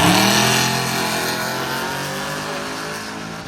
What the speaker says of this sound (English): That'll bring up the high 6-second, low 7-second C10 pickup truck of Matt Turner